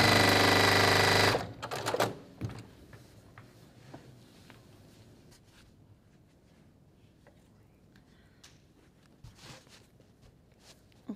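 A sewing machine runs a seam on an Ohio Star quilt block, one loud, close burst at the very start that stops suddenly, followed by quiet fabric handling and soft rustling.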